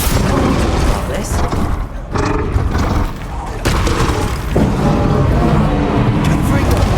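Confringo spell blast in a Harry Potter video game, loud booming explosions that roll through a dense, noisy battle soundscape, with a voice shouting over them.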